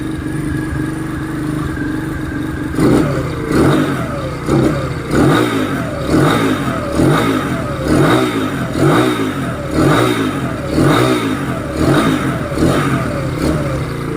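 Motorcycle engine kick-started and running without a battery in its battery-operated CDI setup, with a steady idle followed by a regular series of close, loud revving bursts, about one every second, with no talk.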